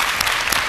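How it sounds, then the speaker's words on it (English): Audience applause for the winner of a televised youth leadership debate in South Africa, a brief, dense, loud burst of clapping that fills the room without pause. "Samantha, a round of applause for Leader 5"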